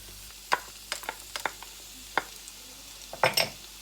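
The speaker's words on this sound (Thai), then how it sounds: "เจียวหอมกับกระเทียมไปก่อนค่ะ" Garlic and shallots in hot vegetable oil for shrimp fried rice, with a soft background sizzle and sharp clicks of a utensil stirring against the pan, close and moderately loud.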